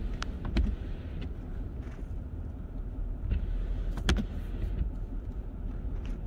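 A truck backs up slowly through a blizzard, its steady low engine rumble mixed with wind buffeting the microphone and a few faint knocks and clicks, with no voices.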